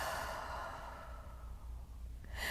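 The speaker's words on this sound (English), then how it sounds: "Big breath out." A deep, breathy exhale during yoga breathing, a single long airy release heard close and alone, fading slightly before a brief rise at the end.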